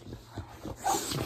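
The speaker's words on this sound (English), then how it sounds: "My dog is happy. Jumping up all on me." An excited dog whimpers and yips in short, high, close bursts while jumping up to greet its owner who has just come home.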